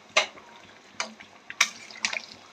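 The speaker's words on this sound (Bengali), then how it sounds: "এই যে গরম জল দিয়ে দিলাম বেশি করে, এইবার সিদ্ধ হবে ভালো।" Hot water poured generously over mutton cooking in a pot, heard as a few brief splashing, trickling bursts with quiet gaps between them, moderately close.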